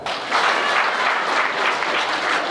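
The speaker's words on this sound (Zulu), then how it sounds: "Ngicela sibaphe ihlombe." An audience applauds at a ceremony honouring local young men, with steady, dense clapping that holds for the whole stretch without a break.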